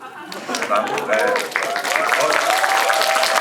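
Audience applause at a Korean film talk event for the movie Hunt, steady dense clapping from a crowd that continues throughout, with someone speaking over it.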